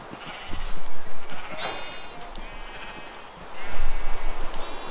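Sheep bleating in the video game Minecraft, with several distinct bleats in two clusters close to the listener. Soft clattering and game sounds fill in between the cries.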